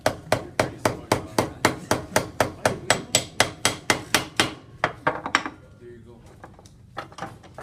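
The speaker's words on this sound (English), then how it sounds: "So I'm going to tap it." A hammer taps rapidly and evenly on thin copper sheet, about twenty sharp bright strikes, then a few scattered taps and soft handling noises.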